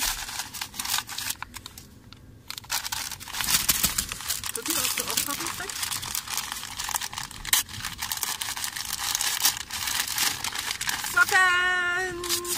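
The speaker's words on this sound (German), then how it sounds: "Dann musst du das auspacken." Wrapping paper crinkles and tears in rustling bursts as a present is opened at Christmas, with people chatting nearby throughout.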